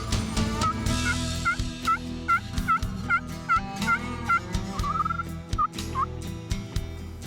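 Wild turkeys gobbling in open country in eastern North Carolina, a series of loud rattling gobbles repeating about every half second, close and clear over a steady background rumble, with no talking.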